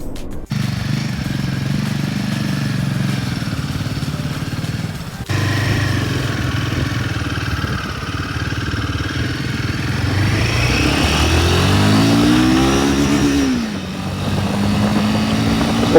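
Royal Enfield Himalayan 450 motorcycle on a test ride, engine note dropping at a gear change then rising steadily in pitch as it accelerates hard, loud and close, with wind noise and no talking.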